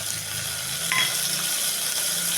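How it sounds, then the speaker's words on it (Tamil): Cinnamon, cloves and chopped onion fry in hot oil with a steady, close sizzle and faint stirring scrapes. There are no voices. "பட்டை, கிராம்பு பொரிஞ்சதும் பெரிய வெங்காயம் 2 கட் பண்ணி வச்சுட்டு சேர்த்துக்கலாம்."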